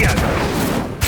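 Incendio fire spell cast in Hogwarts Legacy: a loud, dense roaring blast filling about a second, with a short thump at the end.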